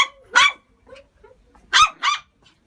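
A dog barks alone in a quiet room, two loud sharp barks about a second and a half apart with faint rustling between.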